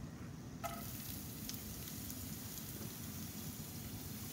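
Onion dropped into olive oil in a pan for minestrone, a soft, steady sizzle that continues throughout after a faint clink.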